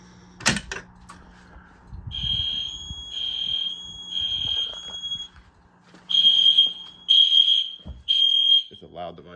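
EST Genesis fire alarm device sounding during a system test, a loud, piercing high tone in a temporal pattern of three pulses, a pause, then three more, preceded by a sharp click in a quiet room.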